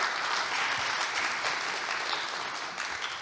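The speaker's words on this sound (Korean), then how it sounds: "참여 감독관님들께 다시 한번 큰 박수 부탁드립니다" Sustained audience applause at a public presentation for newly trained labour inspectors, dense and even throughout, moderately loud with a slight tapering near the end.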